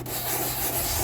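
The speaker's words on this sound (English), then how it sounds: "Now it's important to sand in a circular motion." A block sander works in circular motion over a repaired Awlgrip paint surface, giving a steady, close, continuous abrasive rubbing with no talk.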